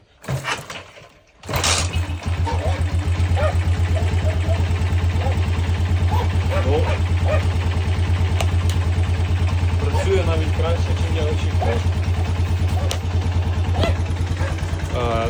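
A Musstang Region 150 motorcycle engine with a noise in it starts with a thump and settles into a steady, close, rhythmic idle that runs on without change.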